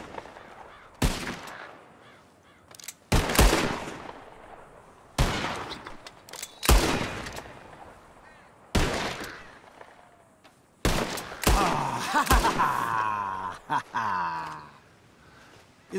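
Gunshots fired at birds in the sky in Red Dead Redemption II, about seven sharp loud reports spaced a second or two apart, each with a ringing tail, alongside bird calls and bursts of speech.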